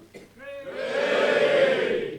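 Crowd at a motorcycle show cheering and whooping for the Yamaha R1, swelling from a brief shout into a sustained loud roar of mixed voices.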